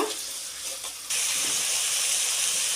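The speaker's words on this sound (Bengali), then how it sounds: "আমি এখন পেঁয়াজটাকে একটু ভালো করে একটু তেলের মধ্যে ভেজে নিব" Onion frying in oil in a pan, a steady bright hiss that jumps louder partway through and then holds constant, close and without talk.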